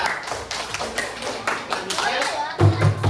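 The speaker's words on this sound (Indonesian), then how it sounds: "Kita tepuk tangan" Children in a third-grade classroom clap together for a classmates' group, a short burst of hand claps and taps mixed with chatter and voices, ending in a louder thump of sound.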